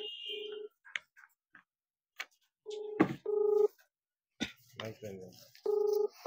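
A mobile phone call being placed: short tone bursts followed by repeated ringback tones, with clicks and brief voices speaking in between.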